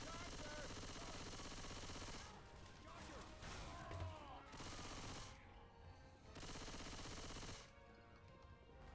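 Gunfire in Left 4 Dead 2, a dense rattle of shots and bursts under loud, busy game noise that drops away briefly in a few gaps.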